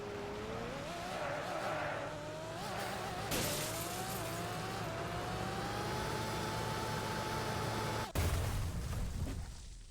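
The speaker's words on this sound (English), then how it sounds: "Alright, let's go destroy this car more times." Car being wrecked in the Roblox game Car Crushers 2: a continuous engine roar with a rising whine and grinding, crunching noise, a burst near the middle and a sharp impact toward the end.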